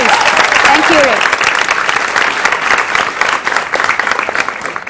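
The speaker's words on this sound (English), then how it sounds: "he deserves, I think, a big round of applause." An audience gives a big round of applause for a speaker at the Women2Women 2012 event, dense continuous clapping that starts loud, with a voice briefly heard over it near the beginning, then tapers slightly over five seconds.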